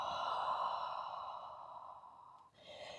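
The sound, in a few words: deep exhale through the mouth during yoga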